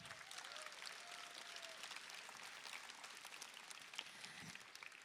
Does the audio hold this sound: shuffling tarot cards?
no